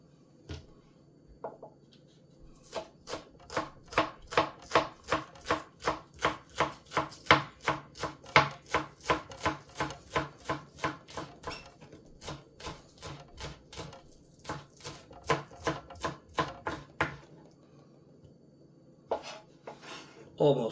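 Green onions are chopped on a cutting board in a long, fast, even run of crisp knife knocks, close and clear, with a short pause partway and a few scattered cuts at the start and end.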